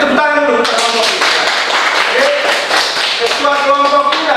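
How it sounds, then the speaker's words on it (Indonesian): Classroom of students clapping for their group leaders, a brisk scattered round of applause mixed with chatter and a teacher's voice over it. "itu tepuk tangan dulu ketua kelompok"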